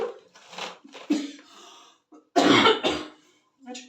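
Several harsh coughs and throat-clearing bursts in quick succession, close and loud, with short quiet gaps and a heavier cough near the end.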